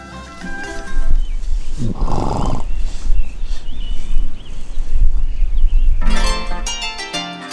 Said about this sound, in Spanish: Es el caballo